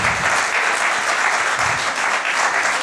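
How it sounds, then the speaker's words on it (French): An audience claps after a speech at a grand final, a loud, dense and steady wave of applause lasting throughout. "On peut l'applaudir encore"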